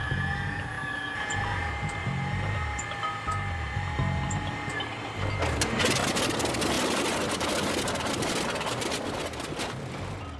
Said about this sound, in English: starting the engine cold is a haphazard and messy affair